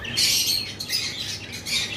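Green Fischer's lovebirds at a bird sale give sharp, shrill squawks in quick repeated bursts, close and loud.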